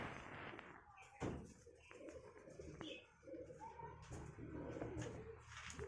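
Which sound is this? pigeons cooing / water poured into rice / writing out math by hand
pigeons cooing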